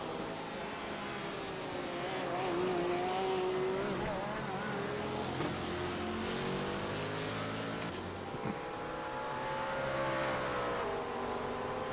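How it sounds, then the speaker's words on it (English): A Ford 427 V8 race car at Sebring gives a steady, deep engine rumble with slowly rising and falling pitch, and other race engines blend in nearby for the whole stretch. "I did have to just be quiet and listen to that beautiful V8 rumble."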